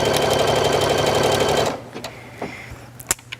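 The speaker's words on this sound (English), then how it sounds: "as I sew, I'm just taking my clips away" A sewing machine runs a zigzag stitch on stretch fabric for a plush Bigfoot, whirring loudly and rapidly up close for about a second and a half, then stopping and leaving a few faint clicks and handling knocks.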